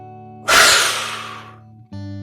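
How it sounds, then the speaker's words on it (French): A single forceful exhale blown out through the mouth during a relaxing sophrology session, a loud breathy rush that fades over about a second over soft sustained background music. "et expirez en soufflant fortement."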